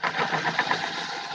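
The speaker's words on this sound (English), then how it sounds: "I'm gonna come in here and I'm gonna drill this out a little bit" A drill boring out a hole in wood on a model aircraft build, giving a steady, close, mid-pitched motor whir that runs continuously for about a second and a half with slight wavering as the bit bites.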